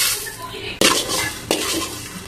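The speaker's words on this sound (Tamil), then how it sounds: "ஃபர்ஸ்ட்ல வெந்தயம் வந்து வறுத்து எடுத்துக்கலாம்." Fenugreek seeds roasting in a pan for a Sunday fish curry, with steady scraping and stirring plus faint sizzle and two sharp clanks of a spoon against the pan.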